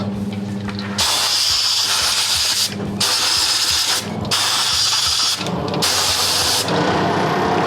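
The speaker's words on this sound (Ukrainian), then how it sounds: "Заливаємо сюди, вмикаємо вентиляцію." Cleaning a car paint spray gun with the ventilation switched on: three loud, sustained hissing bursts of air and spray, separated by short gaps, over a low steady mechanical hum.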